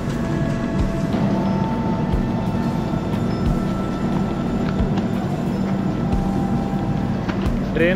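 Steady rumble and clatter of a train at an Indian railway station, loud and continuous with faint rhythmic knocks and a few tonal squeals layered over the low roar.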